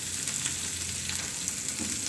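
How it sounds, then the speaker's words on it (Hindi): Ginger garlic paste sizzling in oil in a pan, a steady bright frying hiss held close and even, with no talk over it. "अदरक लहसुन का पेस्ट मैंने हल्का सा पका लिया है।"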